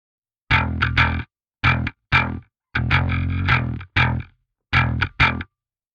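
Bass played through a Parallax X pedal with the noise gate threshold raised gives gritty, effected bursts that chop off into dead silence between them, heard as about seven short, separate hits with one longer sustained note.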